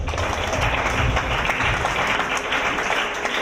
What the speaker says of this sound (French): Acclame pour Jésus-Christ pour ça.